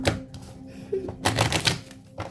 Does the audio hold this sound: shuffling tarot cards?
yes